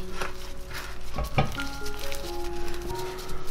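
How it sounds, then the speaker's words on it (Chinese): Black sesame seeds are tossed and stir-fried quickly in a pan of hot sugar syrup off the heat, making a steady sizzle with scraping and clinking spatula strokes against the metal. "把黑芝麻倒进来，快速翻炒均匀"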